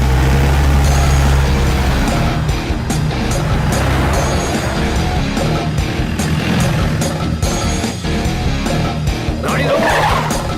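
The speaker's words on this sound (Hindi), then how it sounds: "गाड़ी निकालो।" A car drives off loudly with a low engine roar and tire squeal, and the noise stays dense and steady throughout. It is close and forceful, with background clatter and no clear speech.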